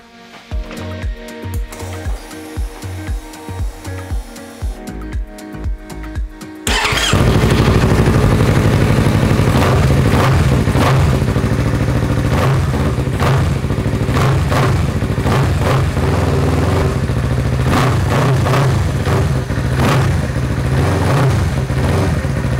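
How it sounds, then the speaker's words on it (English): A Yamaha R3 motorcycle turns over on the starter in a steady rhythmic cranking after new spark plugs are fitted, then fires up and runs at a loud close idle with repeated revs. "So now the moment of truth is that we will start the bike."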